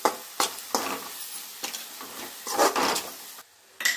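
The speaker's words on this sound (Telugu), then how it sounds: "మన పచ్చి వాసన పోయేంత వరకు ఇది నీట్గా వేయించుకోవాలి" Egg and onion fry in oil in a pan, giving a soft sizzle broken by several sharp stirring scrapes, close and fairly quiet.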